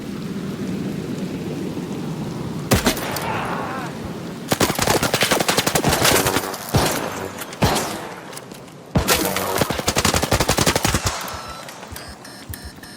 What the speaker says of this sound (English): the sound coming from the gunfire